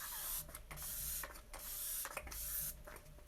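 A can of makeup setting spray being shaken, a rapid series of rattling, clicking bursts in quick rhythm, close and fairly crisp, with no voice over it.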